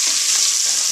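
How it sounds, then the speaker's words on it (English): Chopped onion sizzles in hot oil in a pan, a steady, loud, continuous hiss of frying heard on its own. "So the first thing that goes in is the onion. Listen to that sizzle."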